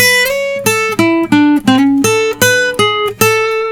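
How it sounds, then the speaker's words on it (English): A bright, sustained electric guitar lick plays alone, a run of distinct notes with bends and slides, moving steadily up and down at moderate volume. "Now the final lick is going to sound like this."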